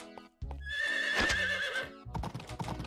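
A horse whinnies loudly in the farming video game Story of Seasons: Pioneers of Olive Town, a long wavering neigh framed by brief game sounds and followed by a quick run of hoof clip-clops.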